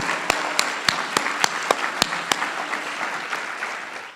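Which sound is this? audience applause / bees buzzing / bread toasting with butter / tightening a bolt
audience applause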